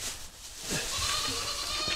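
Goats on a hobby farm bleat a couple of times, nasal and wavering, over an outdoor background hiss, fairly close.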